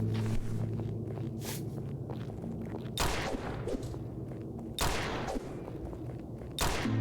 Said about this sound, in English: That's shotguns, and they don't have much range like that does.